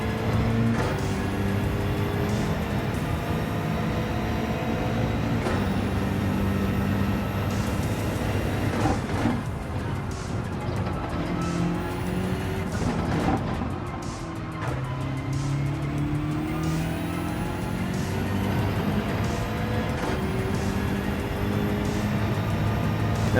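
A BMW M6 GR3 race car in Gran Turismo 7 at Suzuka accelerates in repeated rising engine sweeps, each climbing in pitch, then dropping at a gear change, loud and close.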